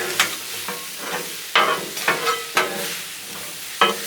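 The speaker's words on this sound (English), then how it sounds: "Grab all your veggies and let's toss them in that butter." Vegetables fry in butter on a Blackstone griddle, with a steady sizzle broken by several sharp scraping stirs and tosses, close and fairly loud, no talking.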